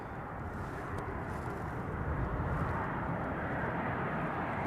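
A Virgin Airbus A330-900 airliner at London Heathrow produces a broad, distant jet roar, steady and fairly faint, swelling slightly over a few seconds.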